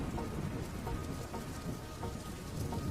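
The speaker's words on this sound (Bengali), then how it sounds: "এদিকে তো বৃষ্টি থামার নাম নেই।" Steady rain falls in a cartoon scene, making a dense, even hiss of drops on surfaces that carries on unbroken at moderate to low volume with no voices.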